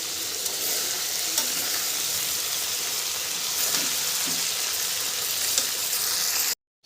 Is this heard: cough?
no